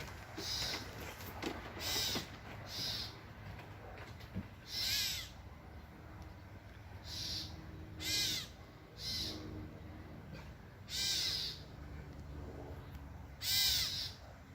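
A catbird gives harsh, raspy squawking calls, repeated roughly every one to two seconds, clear and fairly near against quiet outdoor background.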